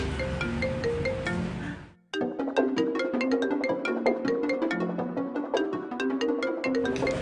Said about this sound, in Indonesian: itu ada telepon kok nggak diangkat sih?